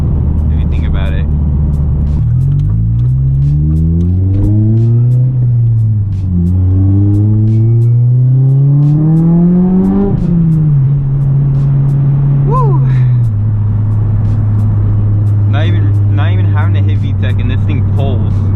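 A tuned K24-swapped 8th gen Honda Civic Si pulls hard through the gears, engine note climbing loudly and steadily, dropping at each shift and rising again, heard from inside the car with a constant heavy rumble.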